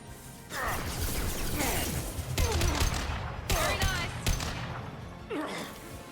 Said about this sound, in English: this gun is single shot